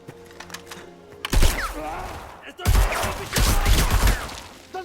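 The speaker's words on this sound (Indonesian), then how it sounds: "Dari dalam gua terdengar baku tembak" Bursts of rapid gunfire inside a cave crackle in irregular clusters after a quiet opening, sharp and reverberant, loud and close.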